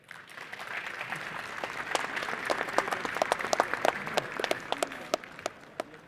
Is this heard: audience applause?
yes